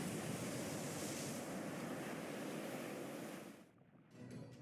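Seawater rushing in during a flooding scene in the Fate/Grand Order game, a loud, dense roaring wash of water that surges steadily for several seconds, then drops away abruptly before a brief swell returns.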